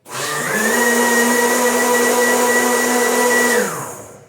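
A blender runs on coconut for homemade coconut milk, spinning up quickly into a loud, steady whine that holds for about three seconds before winding down.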